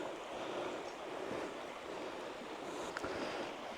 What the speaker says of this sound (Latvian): Te tā upe tik interesanta, strauja tāda forša